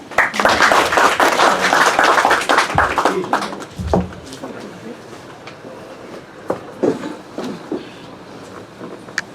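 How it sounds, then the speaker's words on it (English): An audience claps at a talk held in a library among senior advocates: dense, loud applause for about three seconds, then thinning to scattered claps that fade out. "Give a huge claps to."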